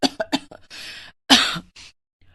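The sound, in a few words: woman coughing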